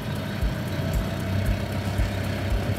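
A Penichette 1165FB canal boat's engine idles with a low, throbbing rumble and faint periodic pulses, running continuously without speech.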